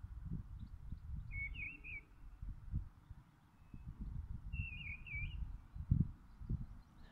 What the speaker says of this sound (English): There's birdsong today, which is nice